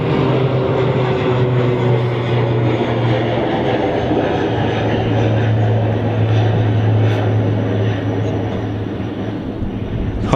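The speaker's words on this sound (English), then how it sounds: "Got an ATR that just took off over there." An ATR turboprop airliner climbs away after takeoff at Manchester Airport, its steady drone and propeller hum heard from a distance as a continuous rumble that stays level, with some faint background noise.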